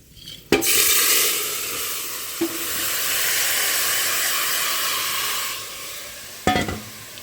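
Marinated potatoes dropped into hot oil with whole-spice tempering, for potato dum made in a pressure cooker, set off a sudden loud hissing sizzle that holds strong and steady, with a few sharp clatters of a utensil against the pan.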